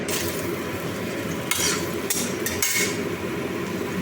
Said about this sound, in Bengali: তেল আমার গরম হয়ে গেছে এখানে এবার আলুগুলো দিয়ে দিচ্ছি